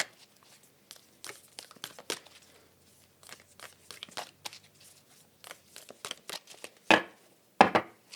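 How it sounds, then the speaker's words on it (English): Tarot cards being shuffled by hand, a run of soft crisp riffles and crinkly slaps at an uneven rhythm, close and alone, with two sharper louder snaps near the end. "Let me shuffle one more time."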